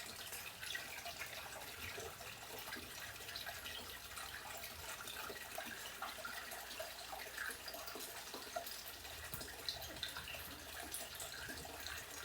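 Water from a taped leak dribbling and trickling steadily, a constant close splashy wash with small drips and gurgles throughout, no voices.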